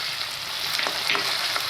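Turmeric goes into a frying tempering with tomato for a Marathi pavta and drumstick amti, and a steady close oil sizzle runs throughout with faint stirring scrapes and no voices.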